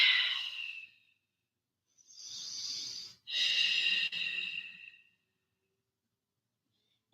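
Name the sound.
breathing during yoga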